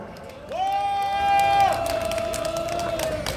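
A large outdoor rally crowd in Busan cheers and applauds, a loud sustained roar with whistles and clapping that swells around the middle and holds steady.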